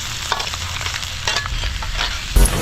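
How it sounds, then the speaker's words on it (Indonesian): Crispy crab frying in a pan at a campsite, a continuous close sizzle with bursts of crackling and spitting oil, a brief louder clatter near the end, no talk. "Wah, goreng ya."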